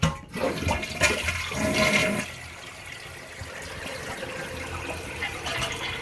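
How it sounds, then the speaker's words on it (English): A household toilet flushes after repair of a leak, a loud gushing rush of water that fades after about two seconds into a steady quieter refilling hiss. "Let me flush."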